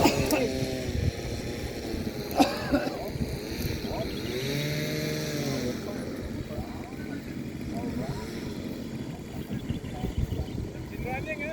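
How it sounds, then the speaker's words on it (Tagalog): An engine runs steadily with a droning hum under shouting voices, while wind buffets the recording. "Engine running!"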